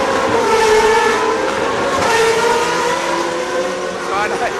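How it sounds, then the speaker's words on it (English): A1GP race cars roar past a pit lane, their engine notes loud and sustained with a rising whine near the end. Someone speaks over the engine noise. "Very noisy down there, just as the cars go past."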